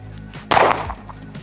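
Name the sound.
pistol gunshots at a shooting competition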